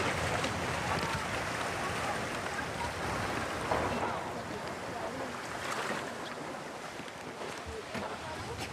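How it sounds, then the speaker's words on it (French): Steady outdoor wash of flowing water and wind noise heard aboard a Polynesian sailing canoe on a river, continuous and fairly loud, with small swells in the rush. "Là, on passe dans une autre ambiance, rivière."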